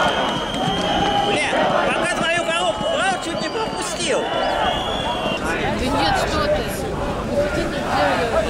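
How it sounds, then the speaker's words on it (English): A large crowd at a Bolotnaya Square rally chants in unison among a dense babble of many voices, loud and close, with overlapping shouts running throughout. "The crowd is chanting,"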